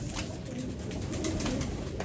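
Pigeons coo steadily and close by, soft repeated throaty calls over a noisy outdoor background, with no talking.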